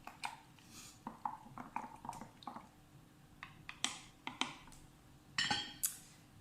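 Homemade milk kefir grains stirred with a non-metal utensil: soft, wet squelches and light taps come in an irregular rhythm, close and quiet, with no voice over them.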